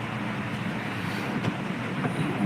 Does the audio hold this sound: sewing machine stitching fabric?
no